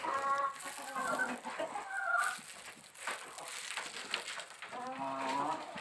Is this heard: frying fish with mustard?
no